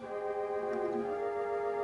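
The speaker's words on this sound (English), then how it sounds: "The next one you'll find is a flute. That sounds a bit like this" A soft, sustained theatre organ flute stop note with a pure tone holds steadily, slightly wavering, with no other sounds.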